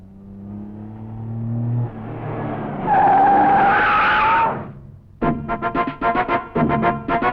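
A car revs and pulls away with its tyres skidding and squealing loudly, then rattles off in a quick run of sharp pulsing bursts, with no voices over it.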